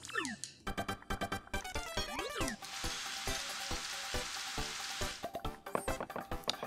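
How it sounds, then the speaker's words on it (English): Cartoonish cooking effect from the game Paper Mario: The Thousand-Year Door while honey syrup is prepared: a burst of crackling sizzle with rapid clattering hits and short bouncy tones layered over it, fairly busy and steady for several seconds. "Let's cook up a honey syrup."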